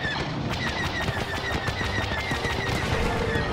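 Rapid, continuous laser cannon fire from a starfighter in Star Wars Battlefront's Fighter Squadron mode, a fast rhythmic stream of repeating shots over engine roar and ambient battle noise.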